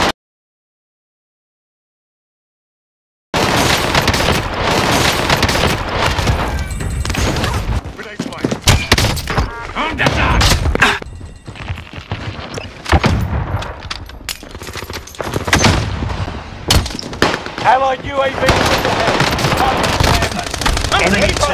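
Gunfire in Call of Duty: Warzone on Rebirth Island, with the Owen Gun in play: dense bursts of automatic fire, booms and thuds crowd the mix and run almost continuously after a few seconds of silence, with game voice callouts mixed in.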